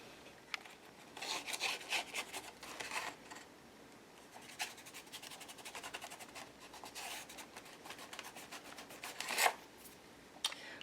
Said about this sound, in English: I'm gonna bring my Stabilo in, go around the edge where I went around with the watercolor crayon, darken the edges up